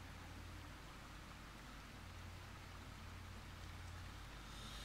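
Steady rain in the video game Arma 3 hisses evenly throughout, a dense wash of falling drops with a low hum underneath and no talking.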